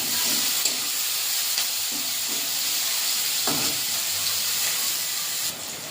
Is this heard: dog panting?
no